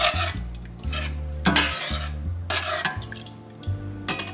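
Massaman curry sauce being stirred in a pan over medium heat, a spoon scraping and knocking against the pan in irregular strokes, close and fairly loud, with a low background hum and no talk.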